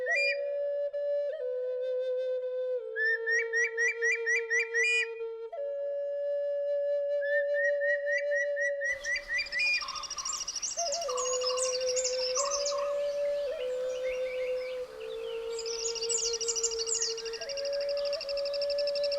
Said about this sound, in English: A Malabar whistling thrush trying to look around from a better